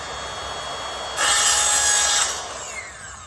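A handheld circular skill saw bites into a board in one short, loud rip of about a second, then winds down over a background motor hum. No one speaks.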